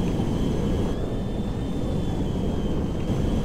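A steady, loud engine roar of a B-1 bomber landing in GTA 5, a broad rumbling drone with a faint high whine running over it, continuous and close with no voices.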